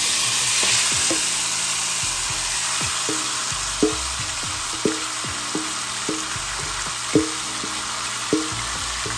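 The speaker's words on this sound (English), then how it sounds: "Add your pork and listen to that sizzle." Loud, continuous sizzle of pork frying in hot oil for Jamaican stew pork, with several sharp clanks of a utensil against the pan at irregular intervals.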